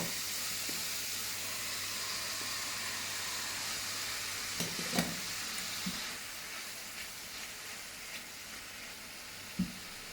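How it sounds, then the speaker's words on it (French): Mushrooms sizzle in melted butter in a pan, a steady bright frying hiss throughout, broken by occasional soft thuds and stirring clatters up close. "une fois que notre beurre a bien fondu, on vient rajouter nos champignons"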